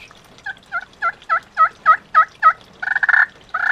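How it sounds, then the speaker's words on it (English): Soft, evenly spaced turkey yelps from a hand call, eight clear two-note notes rising slightly in strength, ending in a few rougher raspy bursts, close up. "You get nice soft tree yelps."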